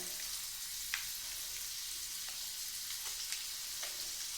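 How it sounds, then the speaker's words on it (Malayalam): Butter melting and sizzling in a little oil in a pan for a butter egg curry, a steady broadband hiss with a few faint ticks and pops, close and continuous, no talking. "ഞാൻ ബട്ടർ ഇട്ട് കൊടുക്കുകയാണ് അല്പം എണ്ണ ഒഴിച്ച് ബട്ടർ കരിഞ്ഞു പോകാതെ"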